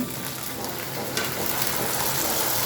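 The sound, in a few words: tomatoes frying in a pan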